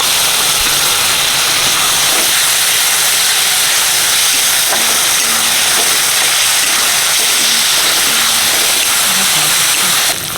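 Ginger-garlic paste and whole cumin hit hot oil in a pan for a mutton curry, a loud, dense, unbroken sizzling hiss that lasts about ten seconds with faint clinks underneath.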